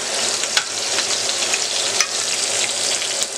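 A beef steak sizzles and spits in a hot pan as butter is spooned over it, a steady dense frying hiss with small crackles and pops, close and loud, with no voices.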